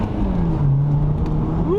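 A BMW 1 Series F20 114i M Sport with a Stage 1 tune to 220 hp, turbocharged, holds a steady engine drone that swells and climbs in pitch near the end, loud and close, with a voice briefly audible.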